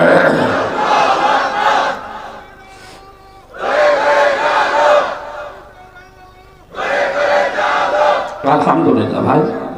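A large crowd at an Islamic waz gathering in Cumilla roars back three loud unison chants, each a few seconds long, separated by brief pauses with a lone voice between them.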